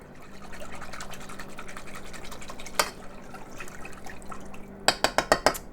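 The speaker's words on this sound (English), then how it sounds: "We're going to add 1 cup of milk" A cup of milk is poured into a cooking mac and cheese roux, a steady liquid gurgle and sizzle lasting several seconds, ending with a few sharp clinks of a utensil against the pot.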